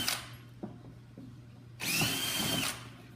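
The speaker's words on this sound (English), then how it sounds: "I'm going to get one size bigger drill bit." A power drill bores with a 21/64 drill bit, a short whirring burst near the start, a few faint clicks, then a louder sustained grinding bite lasting about a second, close and clear.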